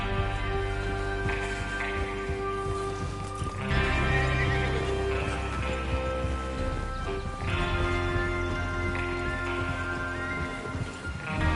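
Horses in the Red Dead Redemption 2 video game neighing and whinnying with hooves clip-clopping, a busy, loud mix of several animals moving together under a continuous musical and ambient bed.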